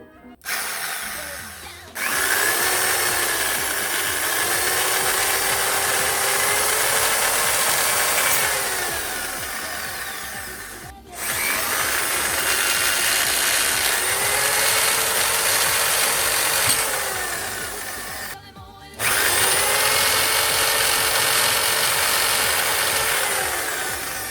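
A power drill bores holes in a computer mouse shell, whining loudly and steadily in three long close-up bursts separated by short pauses, its pitch dipping and recovering as it bites.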